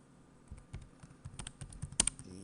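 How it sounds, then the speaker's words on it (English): Quick, fairly soft typing on a computer keyboard enters a comment in Microsoft Word 2013, a rapid run of close key clicks over a faint background hum. "And then you can type this."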